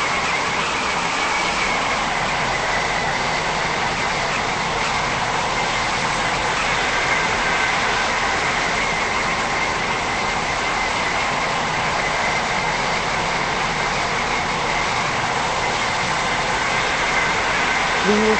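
A train runs on rails in the Stepford County Railway video game during a late-night ride on the Waterline from Greenslade to Benton, giving a steady, loud, continuous rumble and rolling noise throughout.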